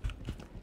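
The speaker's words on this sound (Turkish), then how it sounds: "Ayak sesleri duyuyorum." Footsteps in the tactical shooter Ready or Not, a short run of soft low thuds with an initial heavy step and a few fainter ones, muffled as if from an upper floor.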